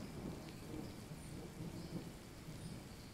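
Steady rain with rolling thunder from the Kainga: Seeds of Civilization video game, a continuous low rumble under a dense wash of falling rain, no voices.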